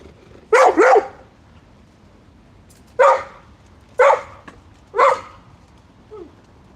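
A predator defense dog, a bull herder type, barks loudly and close by: a quick double bark, then single barks spaced about a second apart, with a faint yip at the end, against a quiet background.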